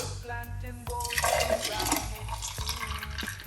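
Beetroot juice pours steadily into a container for a couple of seconds, gurgling and splashing close by, framed by soft clicks and handling noises.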